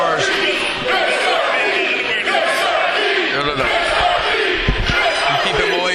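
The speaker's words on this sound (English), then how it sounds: "And you hear George Pantas right here, the crowd getting behind him." Crowd at a live six-man tag team grudge match in an indie wrestling show, cheering and shouting loudly and continuously with whoops and battle-cry yells throughout, dense and close, with commentary voices under the roar.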